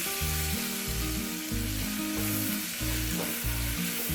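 Ginger, garlic, green chilli and onion sizzling and frying steadily in a pressure cooker for a quick biriyani, continuous hiss close up with rhythmic low stirring scrapes throughout.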